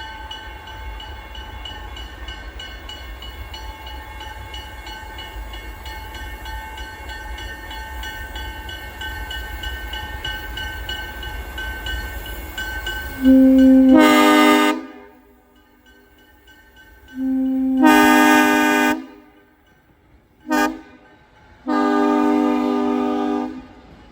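ALCO FPA diesel locomotives of the New York and Lake Erie Railroad rumble steadily near Gowanda, New York, then sound several loud, long horn blasts with short gaps between them.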